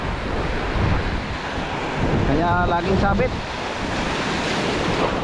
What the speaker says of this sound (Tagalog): itong alon ang lalaki